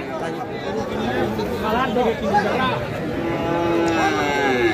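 Cattle and calves, including a Sahiwal and Sindhi, at a livestock market moo repeatedly in drawn-out calls over a constant babble of crowd chatter and nearby voices.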